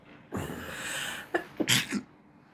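A single sharp sneeze, preceded by a quick inhale and followed by a couple of short breathy bursts, close and fairly loud.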